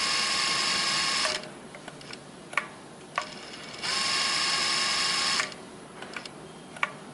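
A straight-stitch sewing machine runs in two sustained, even bursts, each starting slowly and then speeding up, with quiet clicks and handling noises in the pauses between.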